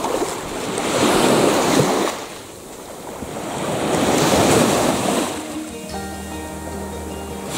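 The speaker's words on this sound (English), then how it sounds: "Of course, the waves aren't nearly as loud." Ocean waves breaking on a white sand beach in Mystic, Connecticut, two broad swelling surges of surf with wind rumbling against the microphone, near and fairly loud.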